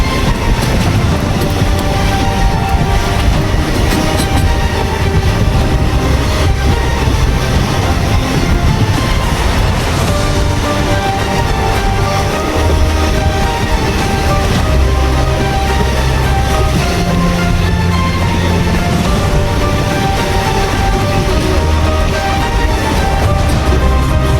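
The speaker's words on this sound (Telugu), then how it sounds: "మన ట్రైన్ టువర్డ్స్ సన్సెట్ వెళ్తుంది" A train rumbles steadily along the tracks, a loud continuous roar with faint rhythmic clatter of wheels running throughout, no voices.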